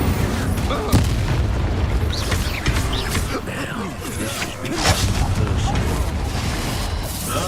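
Spell explosions and blasts in the Hogwarts Legacy video game, a dense run of booming bursts and crackling impacts layered over continuous combat noise and game sound.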